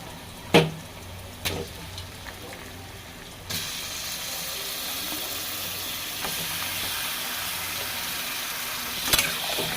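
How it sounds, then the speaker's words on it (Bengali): Steady, hissing sizzle of chicken pieces frying in a pan, growing louder after a few seconds, with occasional clinks and scrapes of stirring. "চিকেনটা দিয়ে এবার ভালোভাবে আমি একটু ভেজে নেব চিকেনটা।"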